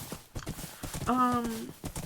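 Horse hooves clip-clop in Minecraft, the video game, a few light rhythmic clops heard beneath a person talking, with a brief tonal horse-like call in the middle.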